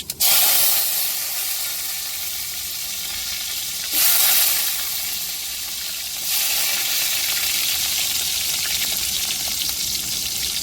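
Mustard seeds and onion go into hot oil for a tempering, a loud close sizzle that flares sharply at the start and swells again twice as more goes in, steady hissing throughout with no talk.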